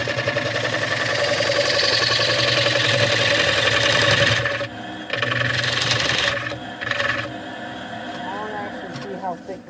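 A 1/2 inch gouge cuts an ash bowl spinning on a wood lathe, giving a steady, loud rough scraping hum that breaks off and resumes in short passes, with a person talking over it.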